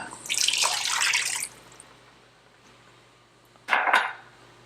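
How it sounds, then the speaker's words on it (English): Beef broth pours into a pot on a stove in a home kitchen as a bright liquid splash lasting about a second, followed by a quieter pause and then a second short splash. "Now we're going to add 2 cups of beef broth."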